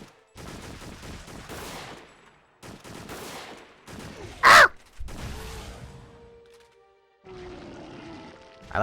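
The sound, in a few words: player imitating a crow's caw when taking damage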